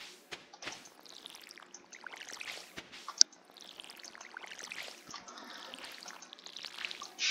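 Water pours and trickles in soft, repeated splashes as crops are watered in the farming video game Stardew Valley, quiet with brief pauses between pours.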